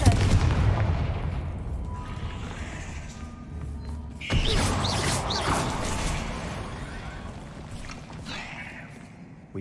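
A Confringo blasting curse goes off in Hogwarts Legacy, a loud booming impact near the start with a second heavy burst midway, each fading into a rumbling tail.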